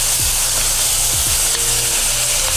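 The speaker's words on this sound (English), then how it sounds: "Add the meat back in with all the juices." Loud, continuous sizzling as short rib meat and its juices go back into a hot pan after a red wine deglaze, with a steady hiss and a few brief scraping stirs.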